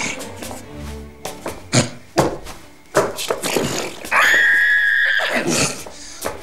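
A man imitates a horse whinnying with his voice, a long shrill neighing cry after a run of clicking, tapping mouth sounds, close and loud.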